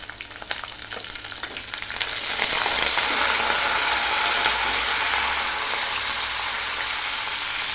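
Curry leaves drop into hot oil with fried onion, bursting into a loud, steady sizzle that swells and holds close up, with a few stirring clicks before it.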